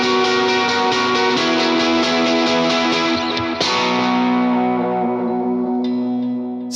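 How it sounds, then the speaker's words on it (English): Electric guitar played through a Line 6 Helix chime drive setting with light delay and reverb, bright, mildly overdriven chords ringing steadily, then a fresh strum that sustains and slowly fades with a shimmering tail. "The first snapshot is my chime drive snapshot"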